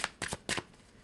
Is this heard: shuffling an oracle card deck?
yes